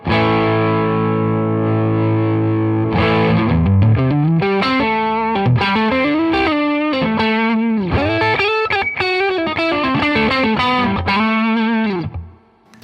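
An electric guitar through an overdrive pedal with less top end than a Boss OD-1 rings out a held chord, then plays loud, close melodic phrases that end in a quick fade, with no talking.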